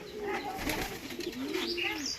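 A pigeon coos in a loft, a low, soft, drawn-out warble heard close and faint, with light bird chirps and rustling around it.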